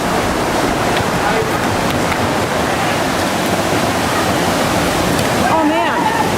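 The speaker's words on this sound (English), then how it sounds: "the tsunami hit the coastal provinces of Phang Nga and Phuket" Tsunami waves surge onto the coast of Phang Nga and Phuket in Thailand, a loud, continuous roar of rushing water and surf that never lets up, with faint voices briefly audible near the end.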